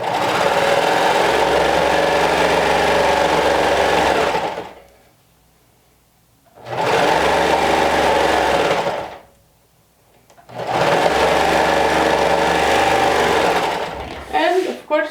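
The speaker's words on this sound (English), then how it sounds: "You're going to go ahead and top stitch it." A sewing machine top stitches a two-piece sleeve in three loud, close, sustained runs separated by brief silent pauses, ending with a few light clicks.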